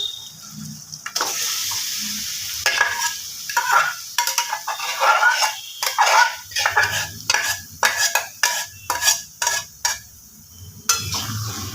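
Marinated chicken is stirred in a cashew spice masala for a peppery chicken kosha, giving close, repeated scraping and clinking strokes in the pan that grow into a steady, rhythmic beat with a soft sizzle beneath.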